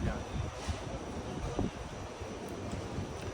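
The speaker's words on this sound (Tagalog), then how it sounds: "mahangin na siya" Gusty seaside wind buffets the microphone with a low, rumbling roar, steady and fairly loud, with faint voices mixed in underneath.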